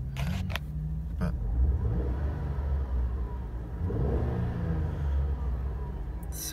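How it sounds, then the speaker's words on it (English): A 2009 Holden Commodore V6 engine rumbles and revs, its deep throaty drone rising and falling over several seconds, heard close with a few sharp clicks at the start. "sounds very nice. V6 motor."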